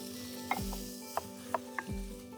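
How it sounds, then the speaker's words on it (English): Corn and little pickled onions tossed together in a bowl for a salsa salad, giving a few sharp clinks and scrapes of the utensil against the bowl over a soft wet shuffling of ingredients. "give that a good mix"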